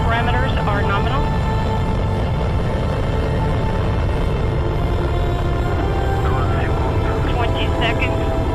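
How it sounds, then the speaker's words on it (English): Steady, broad roar of the Soyuz TMA-05M rocket's first stage during launch, a constant loud rumble with no breaks, while radio voices talk over it. "First stage thrusters are operating nominally."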